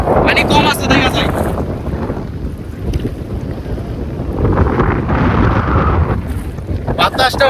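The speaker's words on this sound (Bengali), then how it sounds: "বাতাসটা অনেক বেশি ভাই" Strong wind buffets the microphone in roaring gusts outdoors by the water in a flood-prone village at the foot of the Meghalaya hills, with surges and lulls throughout.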